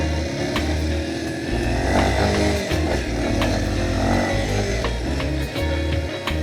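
A Kawasaki KLX 230 SM trail motorcycle engine running on a red dirt field, a loud steady buzzing thrum with rhythmic pulses and slight rises in revs, close by and without speech.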